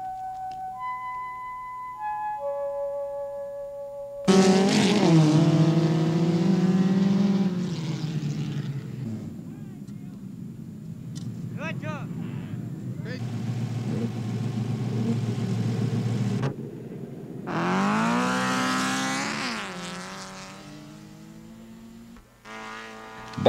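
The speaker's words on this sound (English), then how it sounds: "I never thought I'd be out here sitting on a pile of sand watching little cars zip around" Small off-road cars racing around in the desert: engines whining and revving in several passes that swell and fade, some near and loud, with quieter gaps between, after a few seconds of soft tones at the start.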